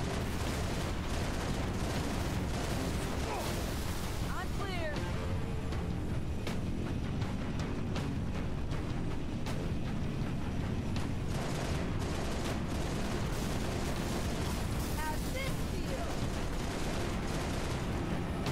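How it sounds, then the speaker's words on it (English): Rockets launch and explode in a Halo: Reach battle, dense continuous gunfire and blasts rumbling close and loud with no break throughout. "Shooting rockets at us."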